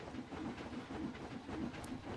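A train rolls along in the park-building game Planet Coaster, a steady rumbling clatter with faint hissing that stays fairly quiet and even throughout, with no voices.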